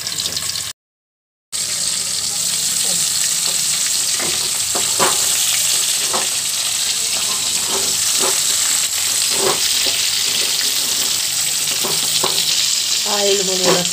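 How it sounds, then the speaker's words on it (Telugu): Bitter gourd fries in hot oil for kakarakaya ulli karam, a loud continuous sizzle with repeated spatula scrapes and clinks as it is stirred, briefly cut to silence near the start. "ఆయిల్ మనం ఇలా తిప్పుకుంటే కాయ బాగా కుక్ అవుతుంది."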